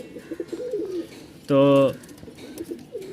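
Caged jet-black spring-tailed pigeons coo in a short, loud, throaty burst close by, with someone talking briefly before and after.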